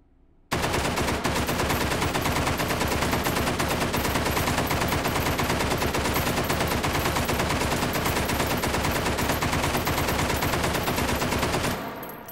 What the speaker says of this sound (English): Let's just fire from the hip.